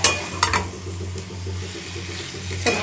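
Paneer sautéing in a pan with masala, a close steady sizzle and frying crackle broken by a few scraping stirs of a spoon at the start and end.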